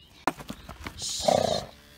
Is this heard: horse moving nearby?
yes